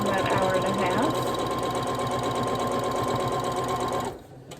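A sewing machine stitching a gnome quilt block, running steadily at speed with a fast rhythmic whirring hum, close and loud, then stopping abruptly near the end, with a voice talking faintly underneath.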